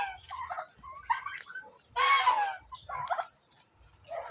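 Geese call in short nasal honks, a few scattered cries with one louder, harsher burst in the middle, close by and otherwise alone.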